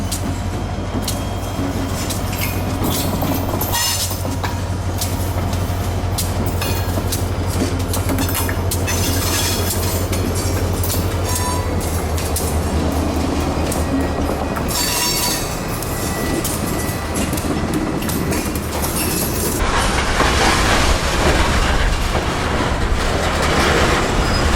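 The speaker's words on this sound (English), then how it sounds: "now he was coming back, pulling 11 loaded covered sand hoppers" Freight train hauling eleven loaded covered sand hoppers rolls past at close range, a continuous loud rumble of wheels with clattering and occasional squeals, swelling louder near the end.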